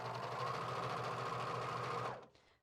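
A sewing machine stitches a T-shirt hem in one steady, fast run of about two seconds, close and even in tone, then stops abruptly into quiet.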